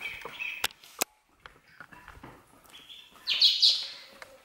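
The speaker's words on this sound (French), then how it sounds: "on a toujours le petit oiseau qui est là" Small bird chirping, a few sharp separate tweets near the mic followed by a brighter burst of chirps toward the end, with faint rustling between.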